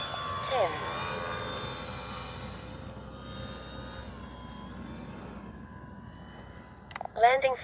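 A Dynam ME BF-109 radio-controlled model warplane drones in flight at a distance, a steady faint engine whine that lingers through the clip, with outdoor wind noise and a brief closer burst near the end.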